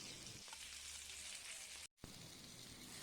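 Tandoori chicken fries on a dosa tawa with a faint, steady sizzle and crackle that stays even throughout and cuts out for a split second partway through.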